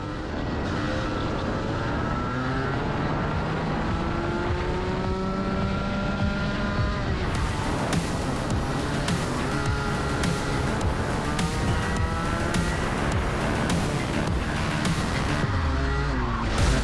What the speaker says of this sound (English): I took the opportunity in this first lap on the straight to accelerate and brake a few times to warm up those front tires